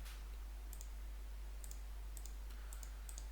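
A computer mouse gives a series of faint, sharp clicks spaced irregularly over a steady low hum.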